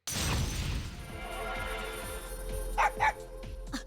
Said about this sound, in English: sharp barking brings me to my senses